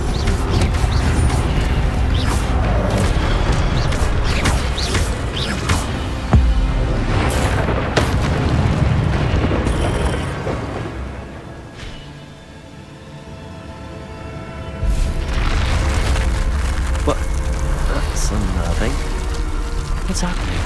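Fiery Incendio spell blasts go off during Hogwarts Legacy combat, loud booming bursts within dense, continuous game action, with a brief lull midway before the clamor resumes; a voice talks over parts of it.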